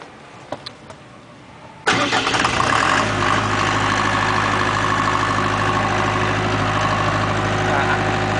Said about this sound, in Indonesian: sekarang genset ini sedang mengeluarkan strum yang dari generator karena listrik PLN sudah dimatikan